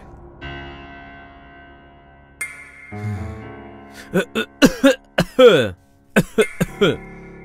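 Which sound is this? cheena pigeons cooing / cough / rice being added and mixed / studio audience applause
cough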